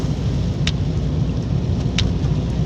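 Rain falls in Sto. Domingo, Albay, a steady, dense hiss with low rumbling beneath it and a couple of faint sharp clicks, heard alone without voices.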